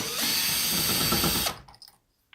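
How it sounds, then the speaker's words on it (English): A screw gun backing screws out of the backup camera on a 2010 Chrysler Town and Country, one close whirring run of about a second and a half that stops abruptly, followed by faint handling clicks. "I've got a long, one of my favorite bits that I leave in my screw gun all the time."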